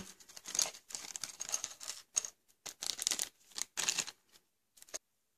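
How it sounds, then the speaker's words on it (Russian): Crisp crinkling and rustling of a thin plastic bag holding a LEGO Transformers Drift set being handled and torn open, in short irregular bursts close up with pauses between. "Открываем пакетик с нашим конструктором."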